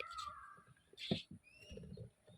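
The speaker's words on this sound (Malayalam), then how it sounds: "മയിൽ കരയുന്ന കേട്ടോ" A peacock's loud wailing call rings out once mid-clip over a bed of chirping birds and low rustling, fairly close and fading quickly.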